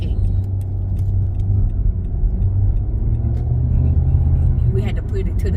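A car drives through slow traffic, its steady low engine and road rumble droning continuously close by, with faint ticks on top.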